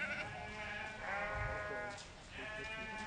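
Sheep bleat in the Idaho backcountry, several overlapping calls drawn out in succession, moderately distant against steady ambient noise.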